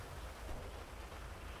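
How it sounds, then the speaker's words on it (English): Steady pouring rain in the GTA V police mod LSPDFR, a continuous dense hiss with low rumble throughout, fairly faint and even, with no talk. "I'm not going to stand out here in the pouring rain"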